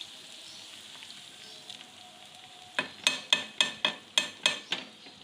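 Tempering (bhagar) poured into haleem, a quiet background that gives way to a series of about eight rhythmic sizzling bursts, each a sharp hiss that fades quickly, with no talking.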